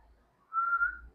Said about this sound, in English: Whistle, when you whistle, na, you actually use your muscles to make some sound